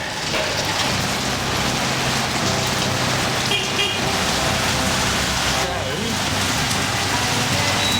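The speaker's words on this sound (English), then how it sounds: "Walking in the rain." Heavy rain pours onto a Saigon street in a constant, loud, close hiss, with faint passing traffic mixed into the downpour.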